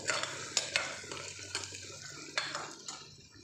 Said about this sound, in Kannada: ಇದನ್ನು ಹಾಕಿ ಒಂದೆರಡು ನಿಮಿಷ ಫ್ರೈ ಮಾಡಬೇಕು